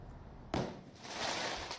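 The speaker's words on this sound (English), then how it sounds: "Firecrackers." A sudden sharp crack followed by a rolling crackle of bangs that swells and lingers, sounding a short distance off outdoors.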